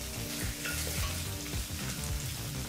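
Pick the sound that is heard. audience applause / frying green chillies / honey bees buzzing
frying green chillies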